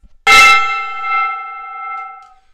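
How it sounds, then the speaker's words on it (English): A gong is struck once in a workshop livestream, giving a sharp, loud hit followed by a bright, sustained ring that slowly fades over about two seconds. "It's time to hit that gong."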